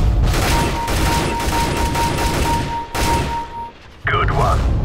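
Sustained gunfire in a Counter-Strike: Global Offensive deathmatch, dense overlapping shots crackling loudly for several seconds with brief lulls, a game voice cue cutting in near the end.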